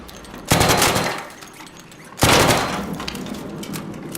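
Gunfire in ARC Raiders while shooting at enemies, two loud, close bursts of rapid shots separated by a short pause, each trailing off into echoing reverberation.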